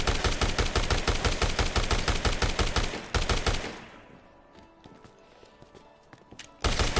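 Rapid automatic hipfire gunshots in the video game Dead Rising Deluxe Remaster, a loud dense burst for about three seconds, then quieter scattered sounds, and a final loud burst at the end.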